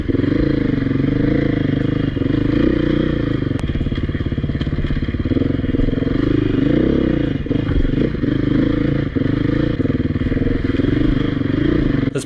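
A Beta 480 dirt motorcycle is being ridden, its engine droning loud and continuous with a lugging rumble, mixed with rattling, clattering and scraping from the ride throughout.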